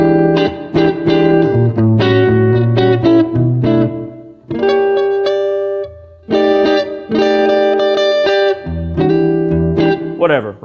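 Electric guitar plays a dominant 7th sharp 9 chord with distortion and effects, bright sustained chord stabs and short melodic phrases, loud and close, with a pause midway.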